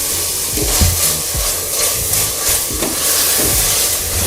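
Chopped tomatoes fry in a pan with a little salt, giving a steady close sizzle and hiss, with a few soft stirring scrapes and no voices.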